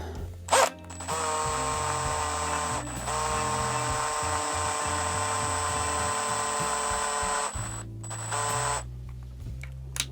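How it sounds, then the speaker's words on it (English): A power drill twisting wires together whirs steadily at high speed, briefly stopping and restarting, close and loud, with no talking. "Let's get them to the same length and shove them in the drill mandrel"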